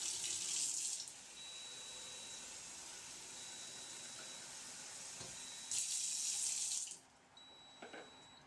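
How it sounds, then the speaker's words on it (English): Cold tap water gushes from a tap in two separate bursts, with a quiet lab room and faint electronic tones between them. "refill it with cold tap water if needed"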